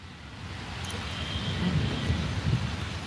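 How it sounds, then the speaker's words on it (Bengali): Stormy wind rushes and swells in the distance, building gradually with low rumbling underneath that suggests thunder, a faint high squeak showing briefly partway through. "দেখা যায় ঝড় তুফানের শব্দ কিছু শোনা যায়"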